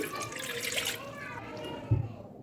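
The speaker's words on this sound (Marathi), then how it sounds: "आता मी थोडं मोठं साईजचं पातेल घेतलं आहे आणि याच्यामध्ये मी घेते आहे पाणी" Water pours and splashes briefly into a large cooking pot, about half a litre for a semolina kurdai recipe, followed by a soft thud, with faint background voices.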